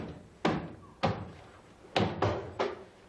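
Five loud, irregular door bangs and thunks at close range, spaced unevenly as if someone is groping for the door, with no talking over them.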